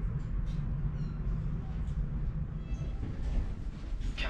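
Riding inside a Stadler CityLink Class 399 tram, a low steady rolling rumble fills the cabin, with faint high squeals from the wheels and light clatter. The sound is quiet and continuous, with a voice murmuring underneath.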